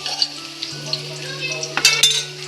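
Chopped onion pieces sizzle in a pan for white sauce pasta, a steady close frying hiss with a low hum beneath and a couple of sharp clinks near the end.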